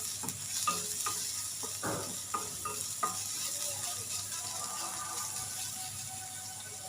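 Onions frying in a pan for samosa stuffing, a steady close sizzle throughout, with several scraping stirs of a utensil early on.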